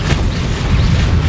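The Bombarda spell explodes in the Hogwarts Legacy video game as a dense, loud, rumbling boom that fills the whole moment without a sharp break.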